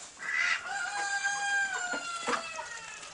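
Roosters crow inside a rooster pen, one drawn-out, clear call rising and holding, fairly close, with faint clucks.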